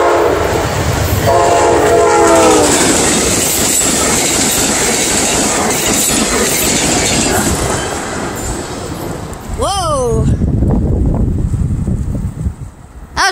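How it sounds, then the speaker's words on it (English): An Amtrak P42DC diesel locomotive races through a crossing in Wells, Maine, close and loud, with a sustained roaring rush of wheels and wind, a horn blast early on, then a Doppler-falling tone as it passes and the noise trails off. "the Amtrak train is here and we're right now at a crossing"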